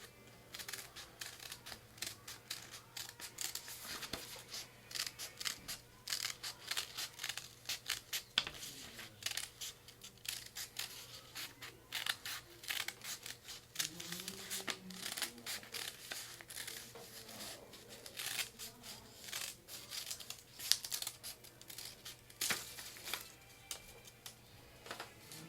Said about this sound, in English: I'm going to just cut that circle out.